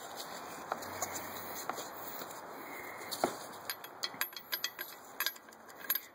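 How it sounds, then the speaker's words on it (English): Hand-spun turbine of a blown VF39 turbocharger from a 2005 Subaru STI with a snapped shaft, giving faint scraping and ratcheting clicks that grow into irregular rattling taps near the end, close and quiet. "I'm spinning the back turbine there, and obviously the front turbine isn't spinning whatsoever"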